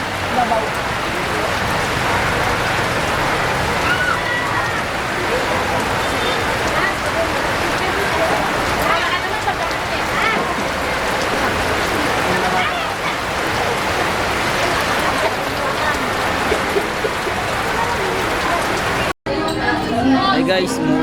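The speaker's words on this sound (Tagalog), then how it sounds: "umuulan" Steady rain pours down, a dense hiss of drops drumming on surfaces, continuous and fairly loud, ending with a brief cut.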